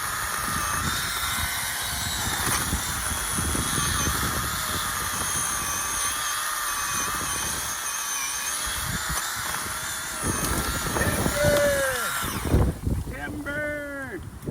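A cordless chainsaw runs steadily at close range for over ten seconds while cutting down trees, a continuous high whine that drops off near the end, followed by brief chirping sounds.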